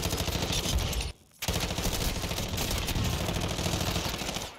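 MP5 submachine gun fire in a first-person shooter video game: loud, sustained rapid automatic bursts, broken once by a short pause before the firing resumes.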